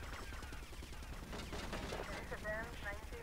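Gunfire shot into the sky during a rampage mission in the GTA Vice City video game. Rapid bursts of shots run steadily under dense game noise throughout.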